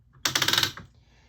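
A weaving loom's warp is wound on with a quick run of loud, close wooden clacks in a rapid rhythmic burst lasting about half a second, then fading to quiet.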